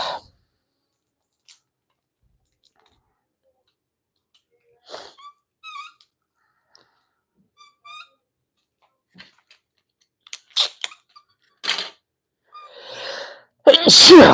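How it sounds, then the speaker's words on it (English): A person sneezes loudly and close, a few sharp bursts near the end after long quiet with small clicks from building a Lego set. "I don't know why I'm sneezing so much all of a sudden."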